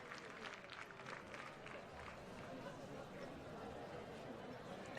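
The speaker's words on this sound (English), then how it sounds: "The crowd still applauding." Crowd applauding at a dressage world breeding championship final for five-year-old horses, a steady broad wash of clapping held at an even level throughout, distant and continuous.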